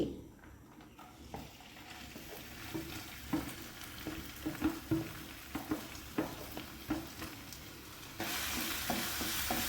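Finely chopped ginger fries in a pan, with a soft sizzle under repeated light scraping and tapping as it is stirred, and a brighter, steadier hiss near the end.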